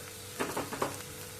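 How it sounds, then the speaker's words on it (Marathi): Chopped vegetables tempering in hot ghee in a pan for paneer momos: a brief soft sizzle with a few quick stirring bursts, close and fairly quiet. "हे जे भाज्या घेतल्यात नाही हे कट करून घेतलेल्या आहेत भाज्या तर ते पण आता फोडणी देऊन घेते"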